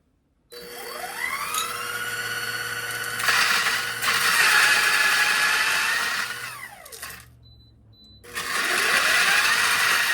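An electric coffee grinder fitted with a 3D-printed hopper whirs loudly up close. Its pitch rises as it spins up, then it cuts out briefly and starts again.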